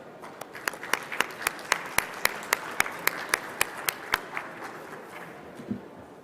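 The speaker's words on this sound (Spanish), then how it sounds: "recibamos con un fuerte aplauso a los ponentes" Audience applause welcoming speakers at a medical conference, fairly faint with a few close, crisp hand claps standing out in a steady rhythm before fading out near the end.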